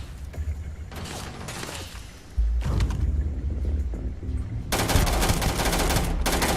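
Bursts of gunfire from a Starfield firefight on Xbox Series S, dense and loud, with sharp shot volleys and a heavier, louder stretch of rapid fire toward the end.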